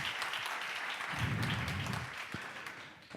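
Audience applause at a social-change conference, a dense wash of clapping that swells briefly and then eases off, steady and moderately loud throughout.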